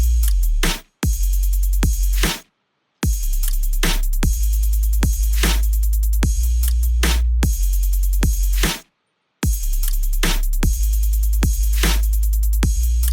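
Soloed drums and deep sub bass from a future bass track: punchy kicks and snappy hits over a heavy, sustained low bass, in a steady loud groove broken by a few abrupt silent gaps.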